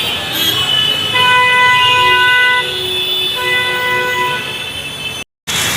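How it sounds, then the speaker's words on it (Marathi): Car horns toot repeatedly in a road traffic jam by a bridge in Vashi, Mumbai, during the monsoon. Several overlapping honks, some long and some short, sound over a steady rumble of vehicles. "जाम ट्रॅफिक असतो इथं"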